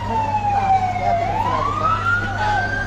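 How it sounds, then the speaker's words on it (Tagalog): A fire truck siren wails as the truck arrives at a house fire on a city street, its pitch dipping and rising again, fairly loud over a low engine rumble and street noise. "Lalo lumalakas yun, may dumating ng bumbero."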